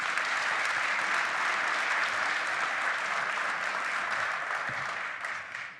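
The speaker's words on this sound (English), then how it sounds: "Our volunteers definitely deserve a round of applause" A large audience at a Portland civic event applauds its volunteers with a sustained, even round of clapping that holds steady for several seconds and then begins to taper off at the end.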